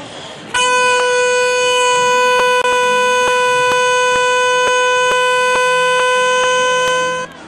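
A plastic horn siren blares loudly and steadily for about seven seconds in an outdoor square during a street artists' event, a harsh sustained tone starting abruptly and cutting off at the end.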